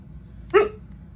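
A single short dog bark sounds close and sharp indoors over a quiet background, with nothing following it.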